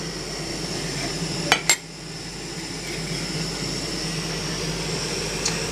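Water comes to a boil in a 0.71-litre Stanley stainless steel camp cook pot on a low flame, giving a constant soft hissing roar broken by two sharp metallic clinks early on and a faint tick near the end.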